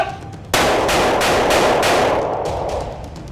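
A single loud, close gunshot from a bullpup rifle cracks out sharply, followed by a long rolling echo that fades over the next few seconds, with no talk.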